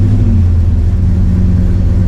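A Squarebody truck engine idling up close, a loud, steady low rumble with a constant drone and no noticeable change in pitch throughout.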